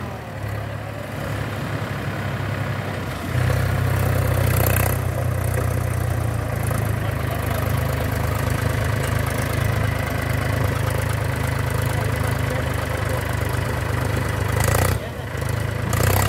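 A Mahindra 265 tractor engine idles steadily nearby under load with a low, throbbing drone that grows a little louder partway through and continues without a break.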